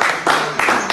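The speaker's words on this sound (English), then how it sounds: "You can hear us clapping for you." Studio hosts on a live talk show clap for a caller, a short burst of a few loud, close hand claps in quick succession.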